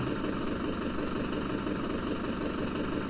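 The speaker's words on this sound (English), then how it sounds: "Yeah, it's got the hybrid engine, but it looks like an old tractor." A hybrid tractor engine idles steadily in Farming Simulator 2011, a continuous loud mid-to-low rumble with even vibration and no talk over it.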